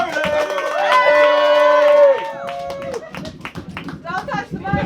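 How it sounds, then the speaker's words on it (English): An audience claps and cheers in a brief burst over an amplified, ringing tone, then scattered hand claps continue under a voice at a live show. "big round of applause for Sterling!"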